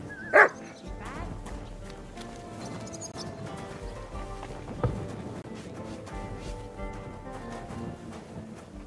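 Dog barking in Kingdom Come: Deliverance II, a sharp yelp near the start and a fainter bark midway, set against game ambience, music and voices talking throughout.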